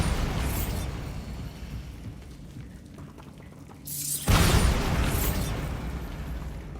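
A Bombarda spell explosion in the Hogwarts Legacy video game hits with a sudden deep boom and burst midway, then a loud rumbling roar that slowly fades, following a quieter stretch of game ambience.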